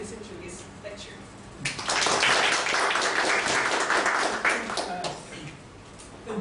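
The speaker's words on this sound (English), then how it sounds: "please give a round of applause to Professor Miyajima" Audience applause for Professor Miyajima at a lecture: a dense burst of clapping swells in after a quiet start, holds steady for about three seconds, then thins out.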